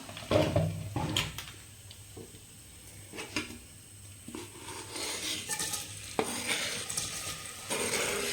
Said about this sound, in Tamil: லைட்டாக ஹீட் ஆகும்போது நான் ஆனியன் சேர்த்துட்டேன்